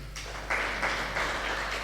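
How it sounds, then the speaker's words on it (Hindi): An audience at a religious discourse breaks into applause, a steady patter of clapping that starts abruptly and continues at moderate loudness. "बजाओ ताली।"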